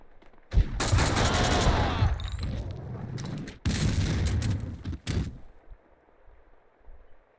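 Gunfire from the video game Max Payne 2 comes as loud bursts of rapid shots and booms in two long volleys, followed by scattered single shots that fade into quiet.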